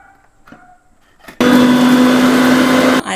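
A kitchen mixer grinder runs loud and steady for about a second and a half, grinding aloe vera, curry leaves, gooseberries and a betel leaf, then cuts off abruptly after a few quiet handling sounds.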